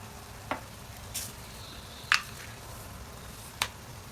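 Large onion pieces fry in a pan, a constant low sizzle broken by four sharp clicks or taps spaced about a second apart, close and without any talking.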